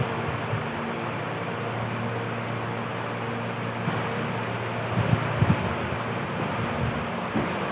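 Steady wind roars in a broad, continuous rush, with a few faint knocks and rattles like a door shifting in the gusts partway through.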